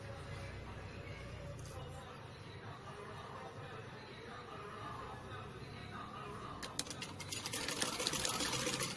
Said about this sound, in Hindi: यहाँ तक हम इसकी स्टिचिंग करेंगे